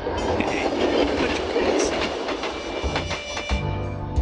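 A train in The Journey Down rolls past with rhythmic clickety-clack of wheels on rails and a rushing rumble that fades, leaving a low hum at the end; no voices.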